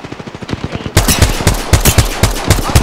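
Rapid automatic gunfire in the battle royale video game Apex Legends, a loud, close stream of fast shots in tight succession that grows heavier partway through.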